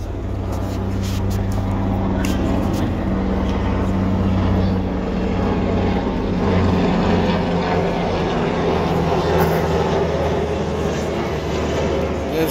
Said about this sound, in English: We got a helicopter coming over.